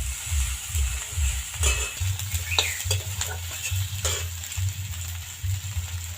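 Taro stolons frying in a pan, a bright continuous sizzle with repeated rhythmic stirring scrapes and a low pulsing rumble beneath, close and steady.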